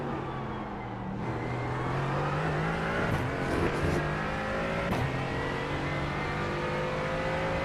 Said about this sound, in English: You could hear the guy getting on throttle